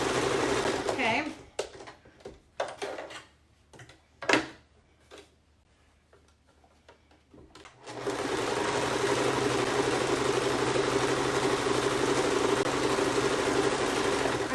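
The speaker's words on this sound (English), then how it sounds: "You're sewing it like this and down the edge, okay?" A sewing machine stitching a fabric face mask, heard first as short stop-start bursts amid quiet handling, then running steadily and loudly close by for the second half.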